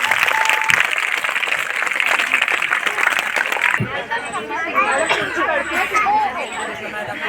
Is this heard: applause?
yes